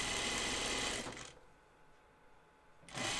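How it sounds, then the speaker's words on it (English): A sewing machine stitches ruffles on fabric for a top, running loud and steady at first, stopping briefly, then starting up again near the end. "I think sewing ruffles is so satisfying."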